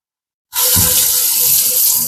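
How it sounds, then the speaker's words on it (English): Running tap water pours steadily into a sink as a knife is rinsed after cutting cheese, a sudden loud, continuous rush of water starting half a second in and carrying on alone without talk. "Let's wash the knife from cutting the cheese."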